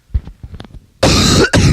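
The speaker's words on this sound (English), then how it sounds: "don't cough into the mic" Someone coughs close into a microphone: a series of small throat-clearing coughs, then two loud, harsh, distorted blasts right on the mic near the end.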